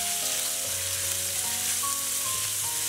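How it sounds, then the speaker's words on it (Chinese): Pork and chopped scallions stir-fried in hot oil in a wok give a steady, close sizzle that runs without a break, with faint tonal hum or clatter over it and no talking. "炒出香味儿"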